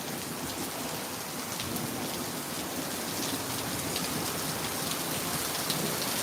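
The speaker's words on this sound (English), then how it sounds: "But rain is falling pretty hard now." Heavy rain pours steadily with a dense, hissing roar, no voices, constant and close throughout.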